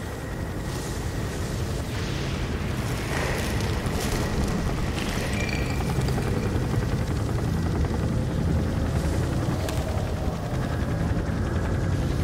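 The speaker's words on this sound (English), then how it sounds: "The GCPD chopper made that part easy." A GCPD police helicopter in the video game Gotham Knights roars continuously, its loud broadband rotor and engine noise filling the scene without pause and with no voices.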